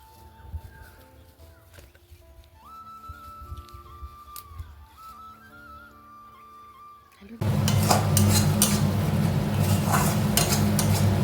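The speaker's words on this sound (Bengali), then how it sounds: "আমি এখন রান্না করছি বড়ি ভাজা, আলু ভাতে, পেঁয়াজ লঙ্কা ভাজা আর পেঁয়াজের পোস্ত।" Food frying in a pan during home Bengali cooking of bori, onions and chillies; after a quiet stretch with faint background tones, a loud, steady sizzle with stirring bursts in and continues to the end.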